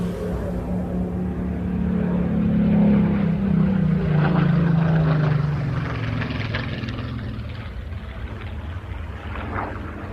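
A single-engine WWII propeller aircraft flies past at an air show in Ayr, its loud droning engine swelling as it nears and passing with a falling pitch, then fading steadily.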